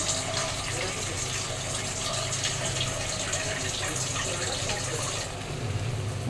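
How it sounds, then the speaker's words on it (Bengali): Water pours into a pan of masala rohu fish curry, a continuous gushing splash with a faint underlying hum and no speech. "জল দিয়ে দিচ্ছি"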